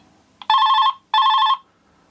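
Treble ringtone of a 1993 Philips PR 800 GSM phone: two short, bright, high-pitched electronic trill bursts with a brief gap between them, loud and close, with a faint click just before the first.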